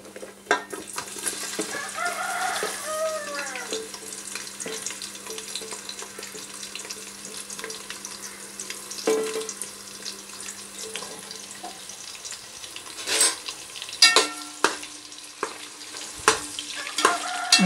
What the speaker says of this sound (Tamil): அடுத்து வெங்காயத்தை போட்டு நல்லா வதக்கிக்குவோம்.